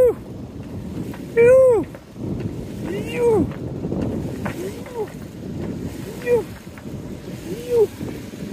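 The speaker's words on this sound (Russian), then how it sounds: "Ух, сейчас волны будут." Small motorboat slapping through waves on open water, with repeated thumps and rushing spray under constant wind buffeting; someone shouts several short exclamations over the hull impacts.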